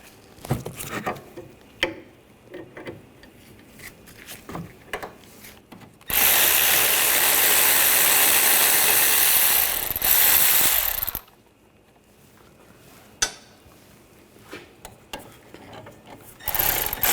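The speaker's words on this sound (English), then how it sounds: "Using a 17mm socket, take the caliper bracket bolts out." Ratchet with a 17mm socket removing the rear brake caliper bracket bolts on a 2014-2020 Nissan Rogue: scattered close clicks and clanks frame a loud, continuous burst of fast ratcheting lasting several seconds.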